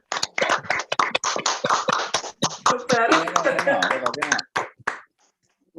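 A group claps together over open microphones on an online call, dense and rapid applause with a cheerful voice speaking over it, then tapering off into silence.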